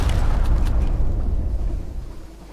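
Main guns firing from a ship in Sunless Sea. A heavy, rumbling boom carries on from the start with a couple of sharp cracks near the beginning, then slowly fades away.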